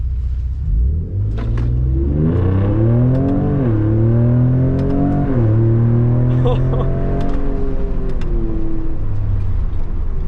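Ford Raptor pickup launching from a dig in a drag race, engine rumbling loud and close as it revs up through a few rising gear pulls, with brief drops between shifts and a person talking over it.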